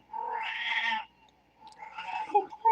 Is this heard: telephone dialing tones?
no